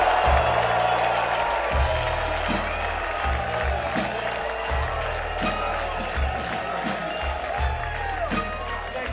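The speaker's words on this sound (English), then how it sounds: "The six of us are going to give him an equally big cheer." Concert crowd at the House of Blues in Orlando applauding and cheering at the close of a show, a steady dense roar of clapping and shouts that holds loud throughout, with low stage rumble beneath.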